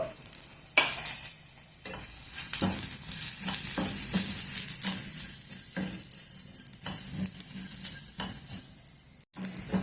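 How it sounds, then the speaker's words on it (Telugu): Curry leaves, tamarind and cumin fry in a pan with a continuous crackling sizzle, broken by repeated scraping stirs of a spoon against the pan, close and fairly loud. "కరివేపాకు చింతపండు జీలకర్ర ఇవన్నీ వేయించుకున్నాం ముందు"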